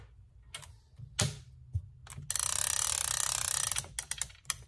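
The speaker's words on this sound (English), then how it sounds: "now the reason I'm doing it with a forward pull is because a clicker will sound different than when you're reeling it back in" Okuma fishing reel clicker reeling in, heard as a fast, close ratcheting buzz lasting about a second and a half, framed by scattered handling clicks and taps.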